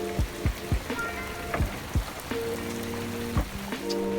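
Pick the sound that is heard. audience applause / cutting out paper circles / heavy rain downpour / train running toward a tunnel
heavy rain downpour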